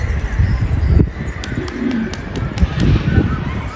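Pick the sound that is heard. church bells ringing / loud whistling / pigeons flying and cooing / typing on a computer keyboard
pigeons flying and cooing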